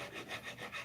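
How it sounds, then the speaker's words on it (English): A curved file crowning guitar frets, its strokes passing back and forth in a steady rasping rhythm of about three passes, close and quiet with no talking. "have this file which has curves on these smaller edges, and those curves fit around these frets"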